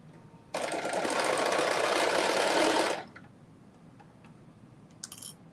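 A sewing machine stitching down shorts runs in one steady burst of about two and a half seconds, close and fairly loud, then stops, leaving a quiet room with faint clicks.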